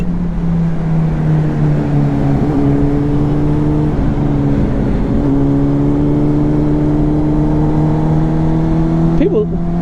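Motorcycle engine droning steadily while riding up a mountain road, loud and continuous throughout with a slight change in pitch as the throttle shifts, wind rushing over it and voices talking beneath.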